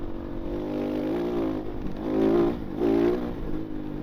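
A Kove 450 Rally motorcycle rides along a forest road, its engine droning steadily close by with two distinct swells of revving as the throttle opens.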